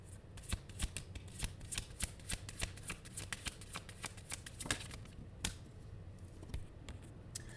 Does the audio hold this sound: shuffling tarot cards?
yes